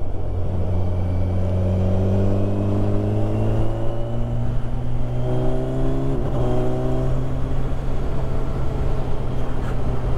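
A Kawasaki Ninja 1000 SX motorcycle engine drones loud and steady under heavy wind rush, its pitch rising through the gears, while a second motorbike's engine approaches and climbs in pitch nearby.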